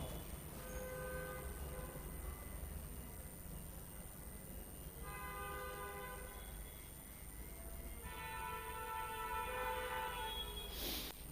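A metro train rumbles along at a steady low level, with sustained multi-tone horn or chime blasts sounding a few times over the ride and a brief sharp burst near the end.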